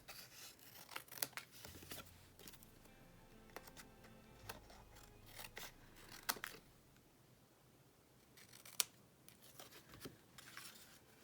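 Scissors cut through a piece of patterned craft paper, a handful of short crisp snips and rustles spread unevenly, faint and close with quiet gaps between them.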